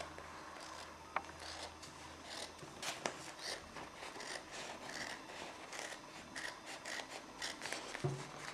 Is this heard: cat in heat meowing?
no